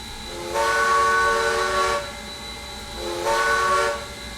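Locomotive whistle of East Broad Top No. 16 in the Trainz TRS19 game sounds twice, two chords about a second and a half each, with a steady background hiss and no voices.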